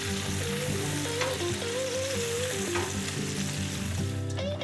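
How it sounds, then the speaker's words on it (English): Bacon sizzles loudly and steadily on a Loco griddle, a dense close crackle under a melodic music backing. "When it comes to cooking bacon, I just flip, flip, flip."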